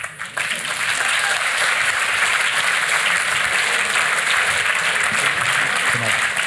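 A conference audience at a political forum in France breaks into loud, sustained applause just after a speech ends, a dense steady roar of many hands that carries on without a break.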